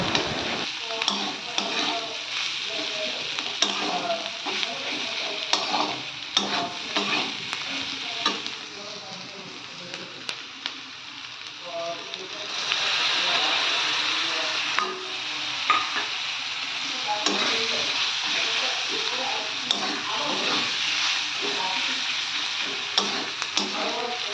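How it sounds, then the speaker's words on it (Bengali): Turmeric and chili powder fry in a pan with a continuous sizzle, punctuated by frequent scraping stirs and clicks of a utensil, growing slightly louder midway; no talking. "হলুদটা দিয়ে সাথে দিয়ে দিয়েছি লঙ্কা গুঁড়ো। তো ওটা ভালোভাবে ভেজে নিই"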